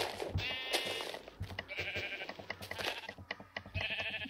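Repeated sheep bleats from Minecraft, several short wavering calls spaced across the stretch, loud and close, with soft game footsteps and shuffling between them and no talking.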